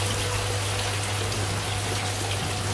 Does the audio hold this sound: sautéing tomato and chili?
no